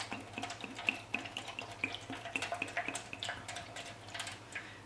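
Red cabbage dye poured from close by into a container, a steady liquid trickle with small splashes and drips running for about five seconds, no voices.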